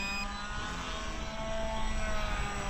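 ARROWS RC Pioneer 620mm beginner model plane flying just after take-off, its small electric propeller giving a steady buzzing drone that swells slightly louder as it passes.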